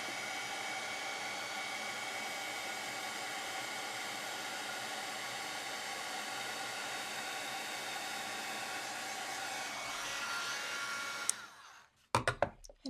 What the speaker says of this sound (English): And now I will heat up my tool and we can melt the powder.